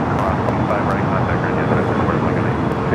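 A passenger jet roars through its takeoff run at Los Angeles airport at night, a loud, steady, broadband rumble with a faint voice talking over it.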